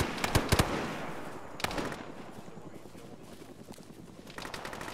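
Gunfire in the military video game Arma: a few sharp shots near the start, a louder crack around a second and a half in, then scattered softer shots fading into background rumble.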